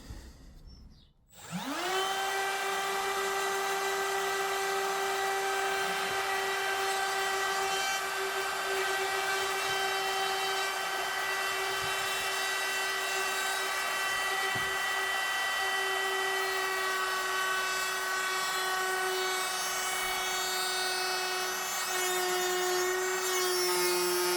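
A power cutter spins up and runs steadily for over twenty seconds while trimming the edge of a reclaimed wooden door, a loud, constant high whine with faint cutting rasp and no talk.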